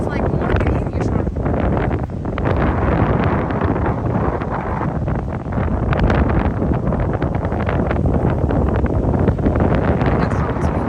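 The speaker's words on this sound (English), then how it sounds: "look at how it's windy" Strong wind gusts buffet the microphone on an ocean beach, a constant loud roar with rustling bursts throughout and no other clear sounds.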